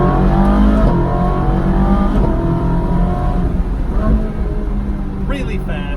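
A Ferrari 458 Speciale A accelerates hard, its engine note climbing steadily through the rev range, loud and close from inside the car, with a voice talking over it.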